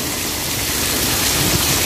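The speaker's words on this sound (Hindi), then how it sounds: "बहुत ही तूफानी बारिश है दोस्तों" Heavy stormy rain pours down in a dense, loud, steady roar that fills everything, with no voices over it.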